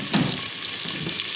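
Onions added to a hot pan for a mutton and potato dish fry with a dense, steady sizzle that starts with a brief low burst, then holds an even hiss.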